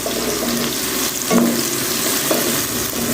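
Onions frying in a pan for a capsicum (Shimla mirch) dish give off a loud, steady, close sizzle, with a couple of faint utensil clinks and no talking.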